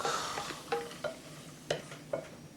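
Potato and onion sautéing in a pan with a little salt and pepper: a soft background sizzle broken by several sharp scraping strokes of a spatula stirring at irregular intervals, close by and without talk.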